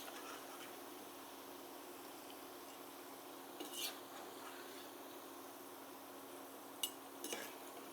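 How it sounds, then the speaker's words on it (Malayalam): Fried sweet potato is scooped out of oil in a pan, with faint hiss of the oil underneath and a few soft scrapes and metal clinks of the ladle against the pan, quiet and with no talking. "ഇത് നമുക്കിനി വറുത്തത് കോരിയെടുത്ത് എണ്ണ വാലാൻ വെക്കാം."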